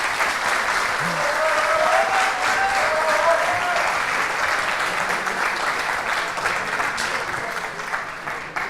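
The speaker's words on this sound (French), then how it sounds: "je vous demande de l'applaudir et de l'accueillir chaleureusement" Sustained audience applause at an academic research talk on esports in sports science, a dense even wash of clapping from a full hall that holds steady for the whole stretch before tapering slightly at the end.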